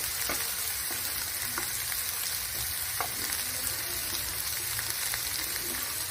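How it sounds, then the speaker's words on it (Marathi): Bay leaf and spices sautéing in an onion masala in a pan, a steady close sizzle of frying with occasional soft stirring clicks and scrapes, heard alone throughout. "तमालपत्र टाकलेलं आहे मी. ते पण चांगलं परतून घ्यायचं या मसाल्यामध्ये."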